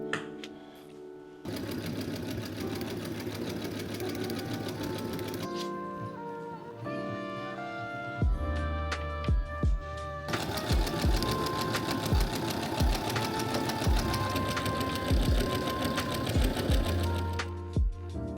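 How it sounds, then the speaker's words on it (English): Sewing machine running in long steady bursts of rapid whirring stitches, close up, with short pauses and some handling knocks between runs, no talking. "I'm going to get back to sewing."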